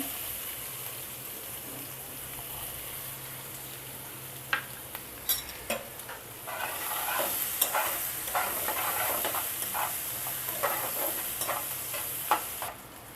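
Cumin seeds and chopped onion frying in hot oil in a pan, a steady hissing sizzle that swells as the onion goes in, punctuated by brisk spatula scrapes and taps.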